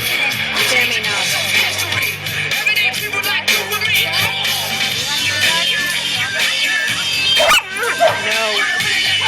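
Dogs bark, yip and whimper excitedly at a dock dog jumping event held at a Bass Pro store, loud and close, with people talking over the commotion throughout.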